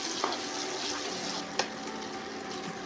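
Spices with cinnamon, green and dried chillies and bay leaves frying in a pan for Bengali fish kalia, a steady sizzling crackle with a couple of sharp clinks of the stirring utensil.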